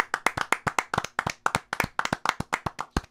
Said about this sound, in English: Can we all clap for that?